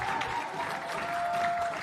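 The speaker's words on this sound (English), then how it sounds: "Can we clap for Levi?" An audience at a learner-leadership summit applauds steadily for a speaker stepping onto the stage, a dense wash of hands under a faint sustained tone, with no words spoken.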